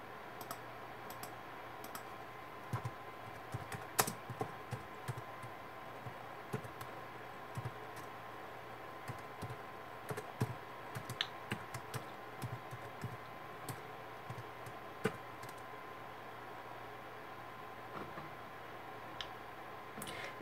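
Steady, quiet clicking of a computer keyboard as code is typed, with irregular keystrokes and occasional louder taps over a low background hum.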